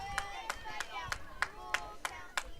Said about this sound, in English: Lady Cat fans standing up, cheering on.